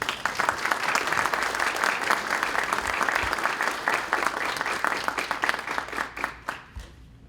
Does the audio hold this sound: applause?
yes